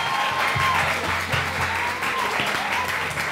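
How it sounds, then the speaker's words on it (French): A live audience at a summer singing competition final applauds a singer and his keyboardist, sustained full-room clapping with crowd noise, loud and continuous from start to finish. "Je vous demande des applaudissements encore."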